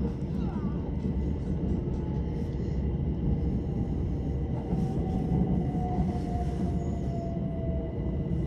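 A Southern passenger train heading toward Brighton rumbles along between stations, a steady low rolling drone from inside the carriage with faint squeals and clatter, while speech is heard over it.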